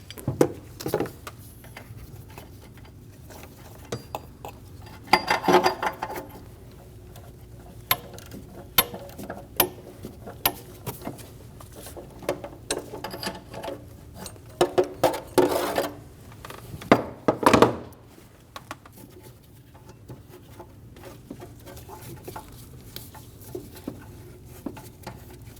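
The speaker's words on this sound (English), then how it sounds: "Using a 22mm O2 socket, we're going to get it around the O2 sensor." A ratchet turning a 22mm O2 socket to remove the downstream oxygen sensor from a 2012-2022 Volkswagen Passat 2.5L, with scattered soft clicks and two louder bursts of ratcheting and metal rubbing, close and without talk.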